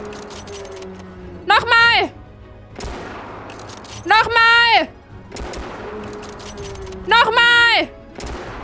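Bursts of video-game gunfire repeat three times, with a voice shouting excitedly over each volley.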